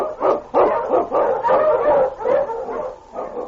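Sled huskies of the Yukon bark and yip repeatedly in a radio drama, a steady run of loud, close dog barks with some whimpering mixed in and no talk over them.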